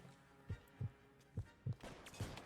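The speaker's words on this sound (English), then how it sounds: "And hear my own heartbeat." Heartbeat in the video game L.A. Noire: a steady series of soft, low double thumps, about six beats, close and clear, with light game background noise around them.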